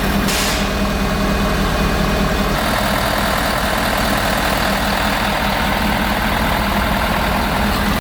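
A 6.7L Powerstroke truck engine runs steadily at idle, a loud, continuous diesel rumble with no break or voice throughout.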